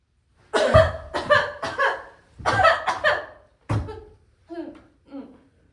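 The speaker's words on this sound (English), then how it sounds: "You have a bad cough." A series of harsh, bursting coughs in quick clusters during a stage scene from Tartuffe, fading into a few softer coughs at the end.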